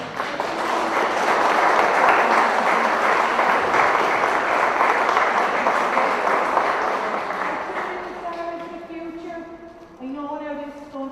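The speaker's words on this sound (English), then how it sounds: "a big round of applause for the game" A crowd applauds steadily for a live handball game at the She's ACE Championship, dense clapping that fades toward the end as voices begin talking over it.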